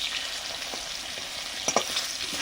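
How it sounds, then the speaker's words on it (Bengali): Potatoes for a meat curry frying in oil, a steady close sizzle with a few scraping stirs of a spatula near the end, no voices. "মাংসের আলু ভাজছি"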